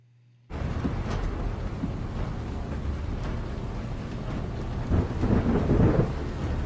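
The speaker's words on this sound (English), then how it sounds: "It's pretty risky riding those boats on that water with that storm going" Thunderstorm with heavy rain from a TV drama, a dense steady roar of downpour with rolling thunder that swells louder near the end, no voices.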